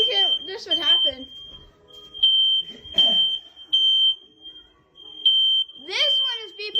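Smoke alarms at a vacation home sound a shrill, high electronic tone that repeats quickly in near-continuous bursts with short gaps, while people talk over it nearby.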